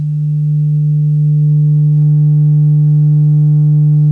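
A steady, loud low-pitched 198 hertz subwoofer test tone from a sealed subwoofer hums continuously, pure and unchanging, with faint overtones creeping in partway through.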